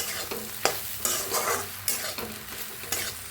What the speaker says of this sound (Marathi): आता एक मिनिटभर असंच भाजून घेऊया आपण